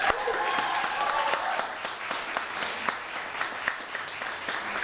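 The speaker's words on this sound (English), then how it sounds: "So a round of applause to the Student Voice team" Audience applause and clapping at a university students' union election results night, steady and moderately loud throughout, with speech-like sounds mixed into the crowd noise.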